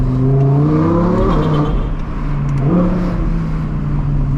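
An Audi R8 Performance V10 revs loud and close from inside the car on a winter drive, its engine note climbing steadily in pitch, easing back, then rising again with a rich, continuous roar.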